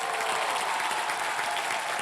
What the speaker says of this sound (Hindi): जोरदार तालियां उस बैंड के लिए